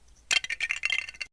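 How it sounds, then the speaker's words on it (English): Plastic Lego bricks clink and rattle together in a quick cluster of bright clicks lasting about a second, close and fairly quiet, with nothing else audible. "Let's import the Lego sound."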